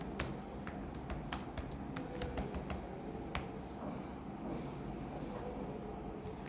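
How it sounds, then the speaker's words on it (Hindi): A college name typed on a computer keyboard, with a quick run of close, sharp key clicks followed by a few sparser taps over a steady low background hum. "अदर्स टाइप करोगे तो आप अपना कॉलेज नेम यहाँ पे टाइप कर सकते हो"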